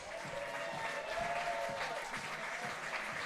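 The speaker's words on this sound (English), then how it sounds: "Let's cheer them on, folks" A baseball crowd applauds and cheers in a steady, even roar of clapping that carries on without pause, heard from a distance across the ballpark.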